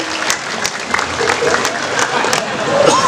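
Audience applauding at a gathering in Sirnarasa, with steady crowd clapping punctuated by sharp individual claps and murmuring voices underneath.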